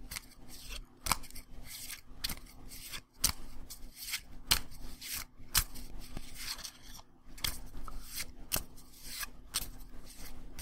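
The monster deck of the Pathfinder Adventure card game is shuffled by hand in a quiet room, a steady run of crisp card riffles and slaps with short pauses between them, near and clear with no talk.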